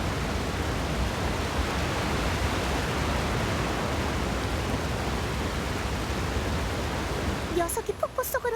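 A waterfall roars as a dense, steady broadband rush that fills the scene, with a few short higher sounds breaking in near the end.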